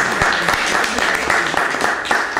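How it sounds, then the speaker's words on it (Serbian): An audience at a Belgrade book promotion gives a sustained round of applause for the SKD president, with sharp individual claps standing out and a voice partly heard beneath. "Volim jedan aplauz za predsjednika SKD-a"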